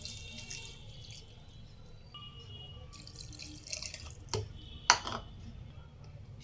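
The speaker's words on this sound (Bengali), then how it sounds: "এবার জল দিয়ে দেবো" Water pours into a pot while chicken shami kabab is prepared, a running trickle with splashes and drips. A few sharp clinks ring out near the end, close by and moderately loud.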